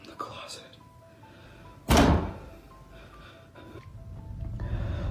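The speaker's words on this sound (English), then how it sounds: "I just heard knocking from the closet." A single heavy knock or thump sounds from inside a closet, loud and sudden about two seconds in, then fades into a murmur of voices and background noise.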